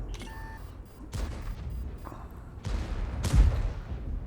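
Tank cannon fire in a video game comes as a few deep booms and thuds, the heaviest near the end, over a low rumbling battle background, with a short beep at the start.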